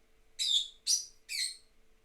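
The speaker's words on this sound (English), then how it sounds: "The birds are going absolutely crazy." Birds let out three loud, harsh chirps in quick succession, evenly spaced, each standing out sharply against a quiet background with a faint steady hum.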